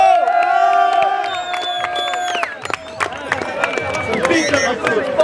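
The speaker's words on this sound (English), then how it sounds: "make a round of applause, everyone" A large crowd cheers, whoops and claps at the close of the 2024 BIKESTORMZ bike event, loud and continuous, with whistles, shouting voices and scattered sharp claps over a dense roar.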